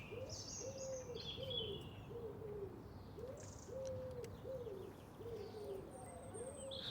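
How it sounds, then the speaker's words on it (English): A blackbird sings alone in early May before dawn, captured with a forward-facing gun microphone: a steady run of clear whistled phrases repeating at an even pace, near and distinct over a soft background hiss. "This is my gun mic recording of the blackbird solo at 4:30 in early May."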